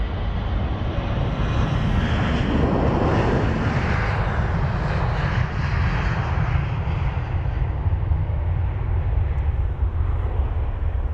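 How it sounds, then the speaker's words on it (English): A KLM jet airliner departs London Heathrow, its engines producing a loud, continuous broadband roar with a rising and shifting whine, close and sustained throughout with no talk. "That KLM aircraft goes."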